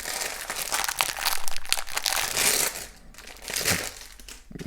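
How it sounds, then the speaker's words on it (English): A roll of fabric tape handled up close, giving loud, continuous crinkling and crumpling with sharper crunchy bursts, then a brief quieter gap before the rustling resumes. "This is fabric tape."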